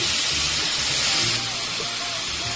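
Onions frying on high flame for vegetable fried rice give a loud, steady hiss that eases slightly midway, with no talk over it.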